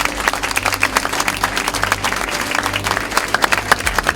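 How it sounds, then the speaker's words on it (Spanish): A church congregation clapping in praise during a sermon, crisp individual claps forming a lively, fairly rhythmic patter over a low steady hum, with no speech on top. "sería justo alabar a Cristo con nuestras palmas"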